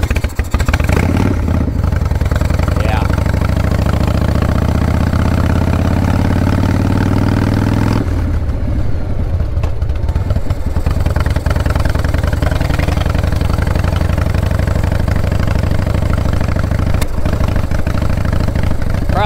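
A 1997 Harley-Davidson Fat Boy with an ignition fault running near the microphone, a loud, throbbing low idle that changes character partway through with uneven engine pulses and clatter.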